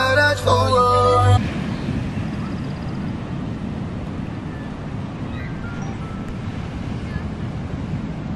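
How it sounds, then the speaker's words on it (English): Ocean waves and wind at a beach in Carmel-by-the-Sea, a steady broad rush of surf with wind buffeting the microphone, after a brief burst of music at the start. "I made it to the beach"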